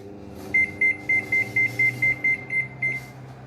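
A convection microwave oven is being set for five minutes, answering with a quick run of about ten short, evenly spaced electronic beeps, close and clear over a low room hum, with no talking.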